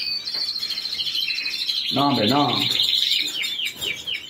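Pet canaries chirping in rapid, high trilling bursts that run through the whole stretch, close and clear, while someone talks briefly over them.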